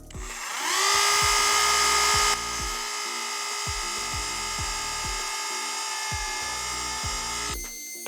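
A small 0.8 mm bit bores a pilot hole for stainless 3 x 16 screws in a filter holder for coloured flashes, the high steady drill whine starting abruptly, running several seconds and stopping, with faint low knocks underneath.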